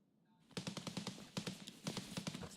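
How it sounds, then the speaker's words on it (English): Heavy gunfire in Escape from Tarkov rattles in rapid bursts after a quiet start, a string of sharp repeated shots in uneven clusters, sounding somewhat distant. "That's some pretty heavy gunfire out there."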